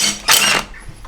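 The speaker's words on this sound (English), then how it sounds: "So I've got my snap-on impact" Snap-on impact wrench used on a Honda CBR 125R during bike preparation, a brief loud mechanical burst of whirring and rattling lasting about a third of a second, close up, with a quieter mechanical tail afterward.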